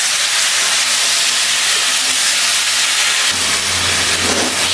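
Pumpkin hits hot oil already frying green chilies and sets off a steady, loud, close sizzle. The hiss swells further near the end, and no one speaks.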